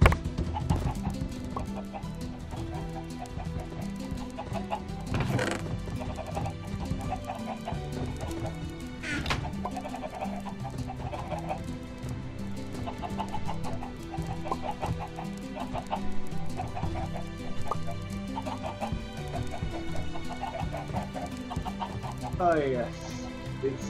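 Chickens clucking in the video game Minecraft, repeated short clucks over a dense bed of game sound and background music, steady throughout with occasional brighter calls.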